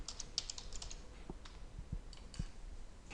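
A computer keyboard is tapped to type a new folder name, a quiet, uneven run of soft key clicks close by in a still room.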